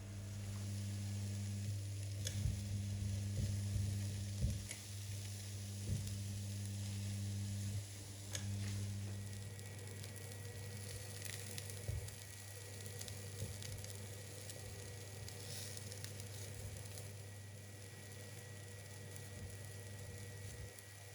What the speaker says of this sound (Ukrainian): Смажимо на сухій розігрітій сковорідці з обох сторін до золотистого кольору